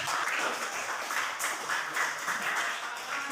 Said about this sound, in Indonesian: Oke, tepuk tangan buat.